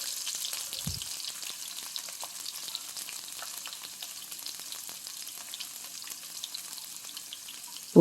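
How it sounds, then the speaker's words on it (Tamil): Garlic sizzles steadily in hot oil with popping mustard seeds, a continuous bright crackle that stays even from start to finish with a brief low thump near the beginning and a clatter at the very end. "பூண்டு நல்லா வதங்கட்டும்."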